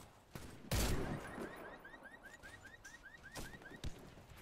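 Gunfire in the Warface video game: a few sharp, loud shots ring out, one heavy blast early and two more later, with quick chirping in-game sound effects repeating between them.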